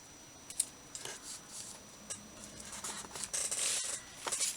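Scissors snip a strip of paper for a pocket journal notebook, a series of quick close crisp cuts in irregular bursts, growing denser toward the end.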